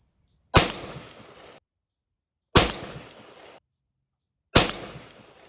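Shotgun with a skeet choke firing Federal Shorty slugs, three loud sharp blasts spaced evenly about two seconds apart, each with a short decaying echo.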